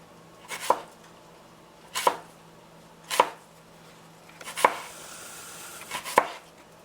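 A knife cuts apple slices for a salad against a cutting board, five crisp, distinct chops spaced about a second or more apart, close and clear with quiet between them.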